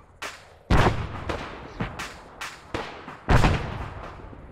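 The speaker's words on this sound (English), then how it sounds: "it's probably tank fire coming at you" Heavy tank cannon fire in the military game Arma: several loud booming reports at irregular intervals, two especially powerful blasts with rumbling tails, with no talking.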